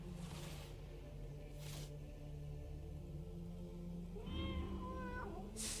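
A cat in the dark adventure game Tormentum gives a short, faint meow near the end, heard low against a steady ambient drone.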